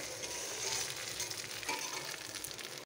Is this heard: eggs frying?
yes